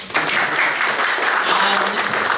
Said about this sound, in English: just give me the applause to the Frank Lu